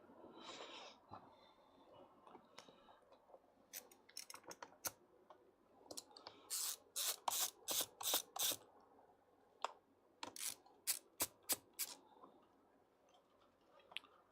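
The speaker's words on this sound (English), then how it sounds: "Gonna keep taking screws out until we figure out what this is." Screws come out of a gaming PC or console during repair. There are quiet, close ticks and clicks, followed by bursts of sharp rapid ratcheting from a screwdriver. No one speaks.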